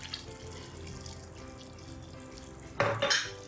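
Water splashes into a pan of pasta in a brief, fairly close pour near the end, after a quiet stretch of low kitchen background; no one speaks.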